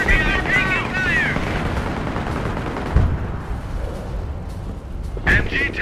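Gunfire and artillery sound in the Company of Heroes game during the Operation Market Garden Highway 69 mission, with rattling shots, heavy booms and battlefield noise under shouted soldier voices.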